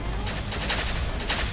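Rapid, dense bursts of gunfire from the video game XSHOT, loud and continuous, with shots crackling one after another.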